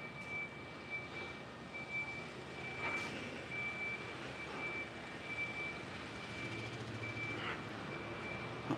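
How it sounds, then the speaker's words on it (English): A reversing truck beeps steadily at a distance with even, regularly spaced tones over traffic and street noise, faint and continuous throughout. "I know why they put those beep things on trucks reversing"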